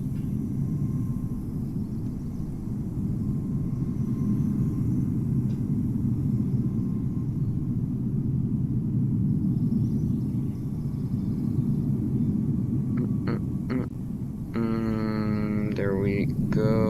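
An Etihad Airbus A350-1000 airliner at Amsterdam Schiphol in Microsoft Flight Simulator, in cloudy weather, gives a steady, even jet rumble throughout, with a brief voice near the end.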